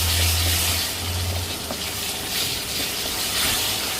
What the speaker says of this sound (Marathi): ती पण आपण छान त्या तेलामध्ये त्या कांद्यामध्ये चांगली फ्राय करून घेऊया।